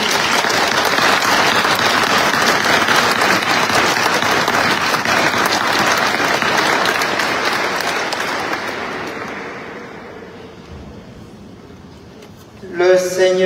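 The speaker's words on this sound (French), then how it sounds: "Je vous invite à les applaudir chaleureusement." Warm applause fills a church during a jubilee Mass, a dense, sustained wash of clapping that gradually thins and fades toward the end before a voice begins speaking.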